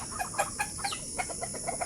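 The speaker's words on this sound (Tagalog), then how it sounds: "ito tayo ngayon sa ating maliit na manukan kita natin sino yung mga inahin natin" Native hens cluck in quick, irregular bursts close by in a small chicken coop, several birds overlapping against a steady background hiss.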